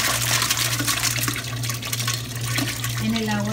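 Menudo poured into a pot of hot water in a large-batch kitchen makes a loud, continuous rushing and splashing stream for several seconds, with a steady low hum underneath.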